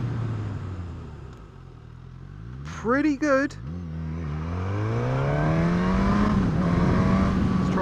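Suzuki GSX-S1000 motorcycle slowing under braking with the engine note falling, then accelerating with a rising, steady engine drone and wind rush; a rider speaks briefly in the middle.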